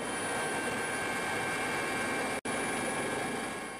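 A Basarnas search and rescue helicopter flying on a midday patrol over the Trans Lampung toll road gives off a constant, loud, close rotor and engine roar, broken only by one very brief dropout.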